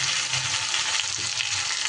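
Ginger and green chili paste spits and hisses in hot oil for a vegetarian poppy-seed dish, a dense, loud, close sizzle with faint stirring movement, steady for two seconds and without speech.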